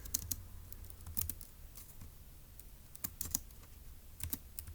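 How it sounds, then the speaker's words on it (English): Soft, close keystrokes on a computer keyboard tap out notes in short irregular clusters, with no talking. "let's go ahead and type that up in our notes in section B"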